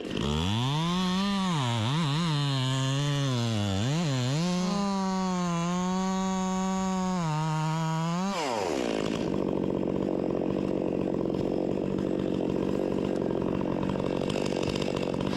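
A cheap chainsaw revs loud and close, its pitch rising and dipping as the throttle changes, then drops into a rough, grinding cut through a pine tree.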